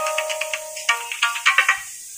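A phone ringtone plays a bright, loud electronic melody of quick repeated notes for about two seconds, clear and alone with no voices.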